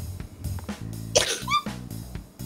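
A single abrupt human sneeze picked up by an open microphone during play of the tactics game Persona 5 Tactica, loud and close, set over the game's background music with no talk.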